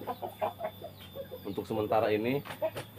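A chicken, a rooster named Gatot recently added to a small breeding pair, clucks in short, close bursts while someone talks over it throughout.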